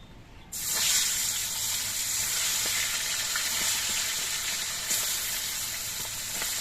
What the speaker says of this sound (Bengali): এবার কয়েকটা করে মাছ একসঙ্গে দিয়ে আমি মাছগুলো ভেজে নিচ্ছি